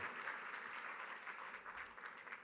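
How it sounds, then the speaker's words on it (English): Faint, steady applause from a charity gala auction crowd, a continuous patter of many hands clapping without pause. "Huge round of applause"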